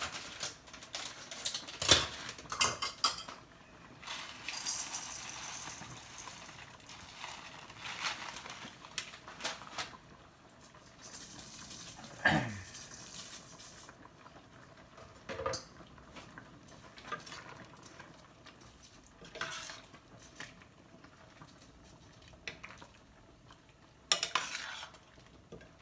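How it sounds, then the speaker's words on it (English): A cup of sweet rice flakes is stirred into coconut milk in a pot, giving soft scraping and clinking with scattered louder knocks of the spoon against the pot, quiet and close, with no talking. "I'm gonna add a cup of the sweet rice flakes."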